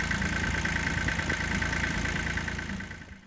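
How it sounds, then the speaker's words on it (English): A restored old tractor engine, freshly serviced with new filters and a new water pump, idles steadily and loudly up close with a constant rumbling drone that eases slightly near the end. "The motor runs beautiful now."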